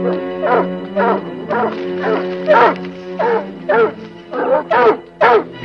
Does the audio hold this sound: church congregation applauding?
no